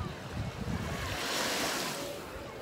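Surf breaking on a beach at Fano, Italy, a steady broadband wash with swells of foam and some wind rumble on the microphone, close and continuous, with no clear talk.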